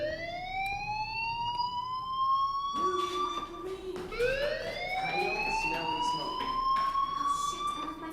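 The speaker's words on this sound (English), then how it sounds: "do you hear that fire alarm?" Fire alarm from the video game Life is Strange, a repeating rising electronic siren-like wail with strong harmonics, loud and continuous throughout amid faint background game ambience.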